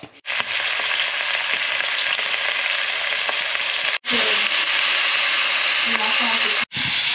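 Steady, loud sizzling of onion, carrot and garlic frying in a hot pan, with a couple of brief pauses as the food is stirred.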